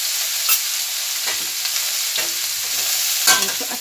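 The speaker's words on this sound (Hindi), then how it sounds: "अच्छी तरह से चलाते।" Spices frying in a pan for pumpkin curry, with coriander powder, turmeric, chilli powder and chopped green chilli, being stirred; a steady sizzle runs throughout, broken by a few sharp scrapes of the spoon.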